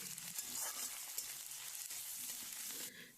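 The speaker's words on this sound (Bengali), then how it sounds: "সেটাকে আবার ভালো করে পেঁয়াজের সঙ্গে মিশিয়ে নিতে হবে এবং ভেজে নিতে হবে" Onions with ginger-garlic paste fry in a pan, a soft continuous sizzle with faint stirring, quiet and close.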